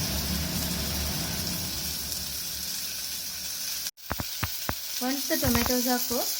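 Tomatoes tipped into a hot pan for pepper chicken gravy, a loud continuous sizzle that cuts out briefly, then returns with clattering stirring knocks and a spattering hiss, close and alone without talk.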